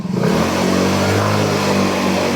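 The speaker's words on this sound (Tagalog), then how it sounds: "Na ako na siguro patono yung Mio ko. Masyado na maangil yung makina." Yamaha Mio scooter engine revving hard and loud up close, a steady high-pitched whine with strong droning harmonics held throughout with no voices.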